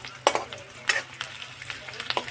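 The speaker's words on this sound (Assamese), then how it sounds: "পিঁয়াজ এটা ভাজি আছোঁ" Onions fry in a pan, producing a soft close sizzle with irregular stirring scrapes and sharp crackles scattered across a couple of seconds.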